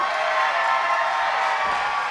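A pro wrestling crowd at a SoCal Pro Wrestling show in Vista, California roars in a steady, dense wash of cheering and clapping that fills the whole stretch without a break.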